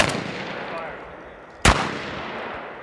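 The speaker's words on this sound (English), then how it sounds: "On the signal, fire one round." A single close, loud shotgun blast during a tactical shotgun class, sharp and abrupt, fired after a quiet, fading background and followed by a brief decaying echo.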